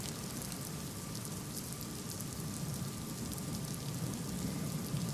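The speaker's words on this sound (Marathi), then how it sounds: "पावसाच्या सरी बरसतायत" Rain falling in Mumbai near Dadar Chowpatty, a steady, dense hiss of drops on surfaces that holds at an even loudness throughout, with no voices.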